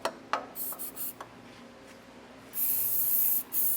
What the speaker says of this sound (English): I'm going to take some silicone lubricant and we'll just spray that in there